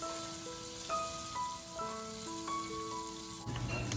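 Paneer cubes shallow fry in hot oil with a soft, steady sizzle that runs beneath a melodic musical tune, then briefly grows louder near the end.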